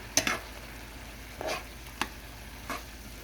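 Cabbage and squash frying in a little oil, stirred in a pan, with a few separate scraping strokes over a faint, steady sizzle.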